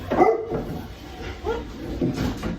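A dog barks a few times in a home kitchen during bread baking, short muffled yips and barks spread across the moment, moderately close with room noise around them.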